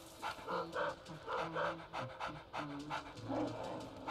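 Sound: puppy panting in Luigi's Mansion 3DS video game

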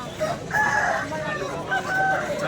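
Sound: rooster crowing at a country chicken market

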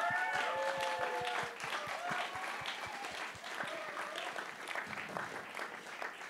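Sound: audience applause for the technicians

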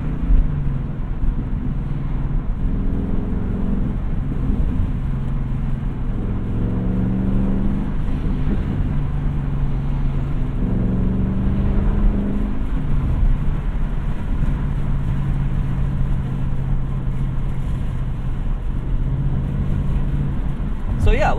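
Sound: 2020 Ford Mustang Bullitt engine downshifting with auto rev match

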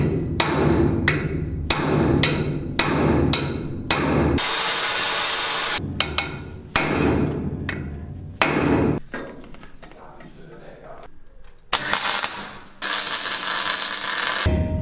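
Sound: hammering out a steel locking pin

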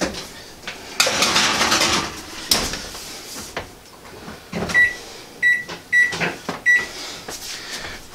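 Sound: pesto pinwheels being put into the oven

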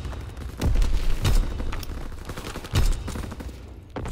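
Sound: artillery barrage in Call of Duty: WWII video game

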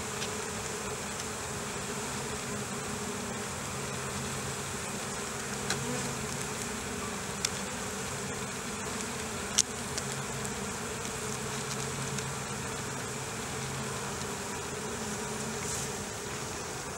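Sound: honey bees buzzing around a hive

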